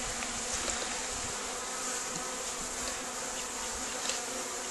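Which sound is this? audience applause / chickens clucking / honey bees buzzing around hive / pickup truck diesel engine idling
honey bees buzzing around hive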